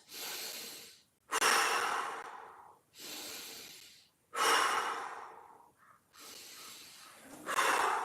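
Deep breathing during a floor mobility exercise: slow, loud, close inhales and exhales alternate in a steady rhythm, each breath lasting about a second or more, with no talk over them.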